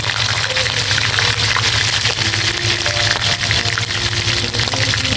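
Catfish frying in a pan of hot oil, a steady loud sizzling hiss with bubbling crackle running unbroken throughout.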